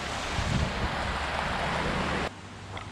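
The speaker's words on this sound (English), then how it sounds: "here's the creek right here" Broadband rushing of a creek flowing right beside a campsite, a steady close wash of bubbling water that drops abruptly to a quieter murmur near the end.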